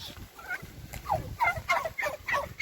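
Several turkeys gobble in quick, bubbling bursts, fairly close and moderately loud, with no talking.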